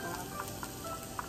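Onion and garlic sauté in a hot pan, giving a steady, close sizzle with faint stirring clicks and no talking.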